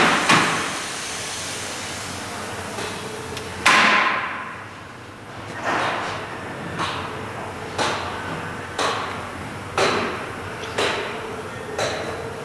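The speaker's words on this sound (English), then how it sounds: "To open and close the clamping frame, you have a switch on the side here." The clamping frame of a Belovac A Class automated vacuum forming machine opens and closes, a series of sharp mechanical clunks and thuds spaced about a second apart, close and clear over a low machine hum.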